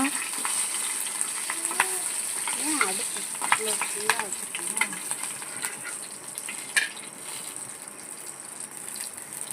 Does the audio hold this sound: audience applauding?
no